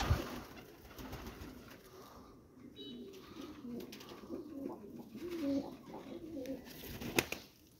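Pigeons coo in a series of low, throaty calls close by, with a brief flutter near the end.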